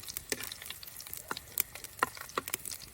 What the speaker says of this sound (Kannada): ಎಣ್ಣೆಯಲ್ಲಿ ಸ್ವಲ್ಪ ಬೆಳ್ಳುಳ್ಳಿ ಫ್ರೈ ಆಗಬೇಕು